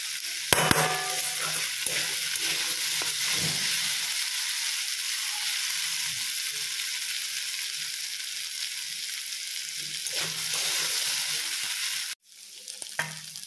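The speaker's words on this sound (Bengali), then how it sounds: "আদা কাঁচা লঙ্কা আলুটা একটু ভাজা ভাজা হোক" Steady sizzling of ginger, green chillies and potatoes frying in a pan, with occasional stirring scrapes, continuous and fairly loud before briefly cutting out near the end.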